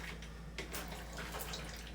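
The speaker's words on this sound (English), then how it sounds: "I'll run the water." A bathroom tap runs water steadily for rinsing photographic prints while bleaching in a home darkroom, a faint, continuous splashing hiss with no talk.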